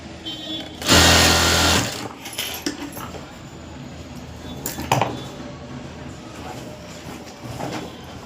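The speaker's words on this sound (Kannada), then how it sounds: "ಇಲ್ಲಿ ಸ್ಟಿಚಿಂಗ್ ಹಾಕ್ಕೊಳ್ಳಿ" A sewing machine stitches a double-folded fabric hem for a skirt (langa) in a short loud burst, followed by softer clicks, fabric handling and small clatter.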